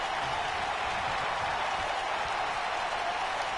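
A capacity arena crowd in the WWE 2K19 wrestling video game roars and cheers steadily, a dense, even wall of loud applause and noise lasting throughout with no break.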